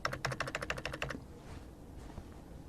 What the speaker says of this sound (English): I can also use my arrow keys to move up and down, and pressing enter takes me down.